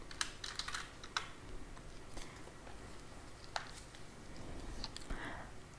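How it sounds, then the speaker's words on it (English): Quiet close-up tapping on a computer keyboard, irregular bursts of keystrokes with short pauses between them, soft and alone without any talking. "You can click in the workspace and you can type the question number and the answers one by one."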